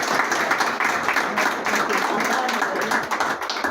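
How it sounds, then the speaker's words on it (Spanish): An audience at a book event for a novel applauds in a dense, uneven burst of clapping, with voices mixed in beneath. "Pido un aplauso"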